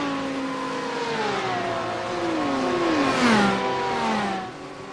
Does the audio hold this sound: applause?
no